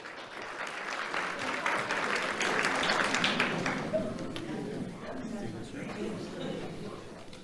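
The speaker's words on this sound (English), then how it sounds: "Let's have a round of applause for Osiris Foster" A ceremony audience applauds for an award honoree in a hall, with sustained clapping that builds and then tapers, while speech continues faintly underneath.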